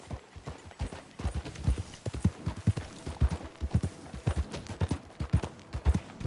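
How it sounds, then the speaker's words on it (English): Horse hooves clip-clop at a steady trotting rhythm in Red Dead Redemption 2, each footfall crisp and close, continuing evenly throughout without talk. "I wish my horse looked that nice."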